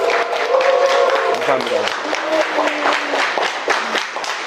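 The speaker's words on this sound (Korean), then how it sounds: "박수 한번 크게 부탁드리겠습니다" An audience at a lecture applauds in a brief burst of clapping while someone speaks over it, the clapping loud at first and then thinning out.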